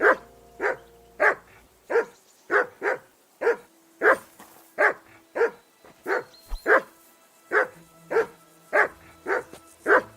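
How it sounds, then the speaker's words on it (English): Fifteen or so sharp, regular barks come from a dog in Kingdom Come Deliverance 2, near and loud, repeating at a quick even pace with faint background game ambience. "Henry, whistle at that mutt of yours to stop barking."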